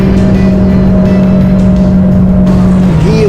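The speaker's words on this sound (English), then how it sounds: "let's take a ride around the famed Brickyard. Flat out in the Eagle Talon." An Eagle Talon race car runs flat out around the Indianapolis Brickyard, its engine a loud, steady, high-pitched drone heard close from the cockpit, with a brief pitch shift near the end.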